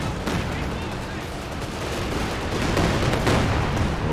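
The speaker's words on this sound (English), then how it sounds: "Could be a good Katyusha target for Tramtuer. Here comes the rockets." Katyusha rocket barrage in Company of Heroes 2, a dense rolling rattle of launches and impacts that swells toward the end, with a commentator's voice faintly underneath.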